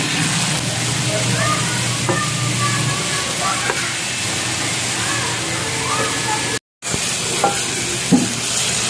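Ripe tomatoes sauté in a pan with onion for a miso salmon-head stew, a steady close sizzle with occasional stirring scrapes and soft clinks, a brief dropout near the end.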